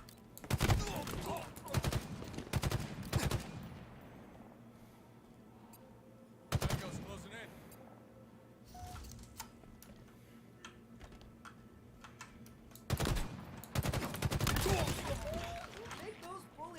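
Rapid gunfire in a Halo game comes in several dense automatic bursts separated by quieter stretches with faint clicks, loud and close, with a voice heard between the volleys.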